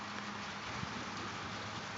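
Rain falls on a metal roof during a small thunderstorm, a steady close hiss of drops with no talking.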